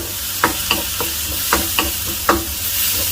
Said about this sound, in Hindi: अब मैं इसको 2 से 3 मिनट तक थोड़ा सौते करूंगा। टमाटर थोड़े से सॉफ्ट हो गए हैं।